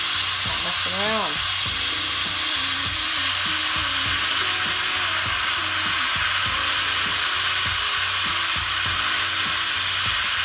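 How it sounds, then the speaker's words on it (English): Steam blasts out of a Power Pressure Cooker XL holding minestrone soup, a loud, continuous close hiss that never lets up, with a low rhythmic rattle and a brief voice underneath. "This will probably have a ton of steam."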